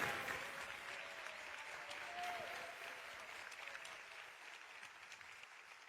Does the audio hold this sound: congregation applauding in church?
yes